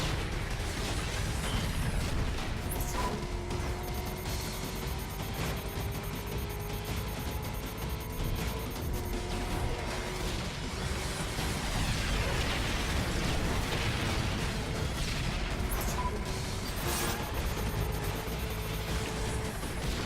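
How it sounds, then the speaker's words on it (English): A barrage of missile explosions in the racing game Split/Second bursts and crackles continuously for twenty seconds, dense and loud, with engine whines and mechanical clatter layered beneath the blasts. "Oh, that's a lot of missiles."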